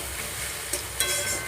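Chhola flowers fry in a pan with salt and sugar, a brief steady sizzle with a couple of stirring scrapes.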